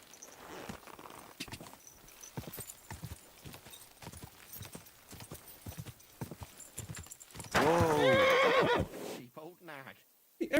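Horse hooves clip-clop in a steady walking rhythm in the game Kingdom Come: Deliverance 2, with a loud close neigh near the end; someone talks over the hoofbeats.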